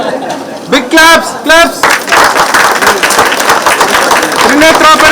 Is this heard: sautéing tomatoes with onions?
no